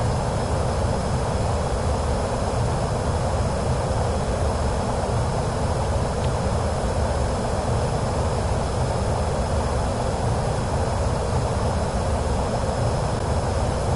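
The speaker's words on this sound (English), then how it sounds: "I love the sound of this PC-24." Steady, loud jet engine roar from a Pilatus PC-24 business jet in Microsoft Flight Simulator 2024, a continuous broadband whine and rumble that holds level throughout with no voices.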